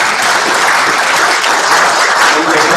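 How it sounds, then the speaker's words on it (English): Continuous, loud audience applause at a leadership talk event, an even wash of many hands clapping without breaks. "give the clap of hands for yourself for being here"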